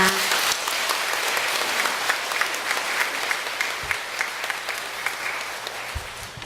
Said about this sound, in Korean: 하느님께 우리 감사의 박수를 드리고 하겠습니다